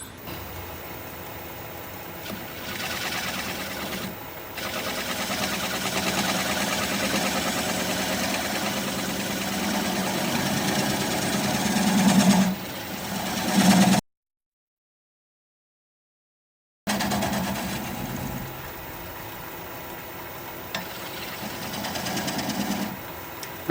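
A wood lathe spins a mulberry bowl while a cutting tool takes clean cuts, giving a steady hum and whir with rougher scraping passes. The sound drops out completely for a few seconds, then the turning resumes.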